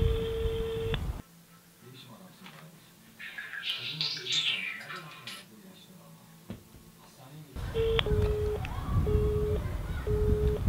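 A landline telephone ringback tone plays in repeated beeps at the start and again at the end, with a Turkish television comedy scene's background sounds and low talk in the quiet middle stretch.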